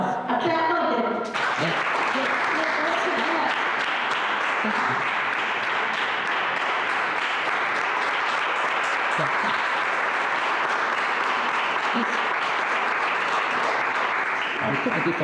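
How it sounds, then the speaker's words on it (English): Sustained audience applause at a centre inauguration in Kasavanahalli, a dense, loud crowd clapping that holds steady for the whole stretch after a brief voice at the very start. "A clap for them."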